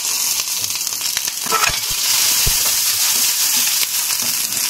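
Garlic and curry leaves frying in hot oil, a steady close crackling sizzle with brief spits and pops, no voices.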